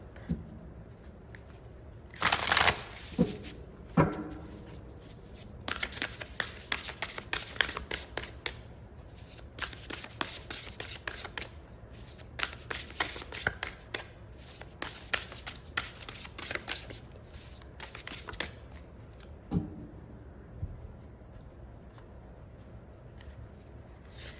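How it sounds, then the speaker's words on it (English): Tarot and oracle cards are shuffled and pulled from a deck. Soft, papery riffles and slides come in irregular bursts over about twenty seconds, close and fairly quiet, with no talking. "So let's pull some more cards to see what is coming up."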